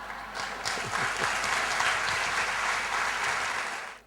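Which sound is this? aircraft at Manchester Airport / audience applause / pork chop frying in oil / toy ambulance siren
audience applause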